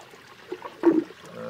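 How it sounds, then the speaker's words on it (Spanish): Water flowing through a homemade aquaponic system with small fish, a soft trickling stream with a brief louder splash near the middle, fairly close and without talk. "Y ahí el agua está fluyendo."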